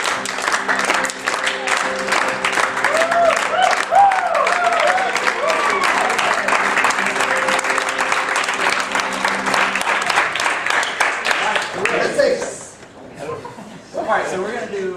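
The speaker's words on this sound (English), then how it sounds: "we're going to start a clap with our music improviser game" Audience applause fills an improv theater show, a dense, steady clapping with some chuckling and crowd chatter mixed in, fading briefly near the end before picking up again.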